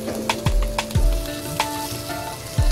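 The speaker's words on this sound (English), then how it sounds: "just sear this shrimp slightly on both sides" Shrimp searing briefly in a hot pan gives a steady close sizzle, with several short utensil knocks and scrapes against the pan spaced through it.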